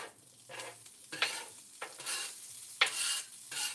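Fried rice on a flat top grill sizzles quietly while a spatula stirs and scrapes it in short, repeated strokes, each push bringing a brief burst of hiss.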